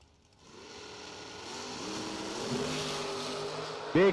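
Drag racing engines roar at a door slammer event, a Camaro against a Stealth with a 496 cubic inch Mopar engine, building from a quiet start into a loud, rising, sustained drone with a sharp burst near the end.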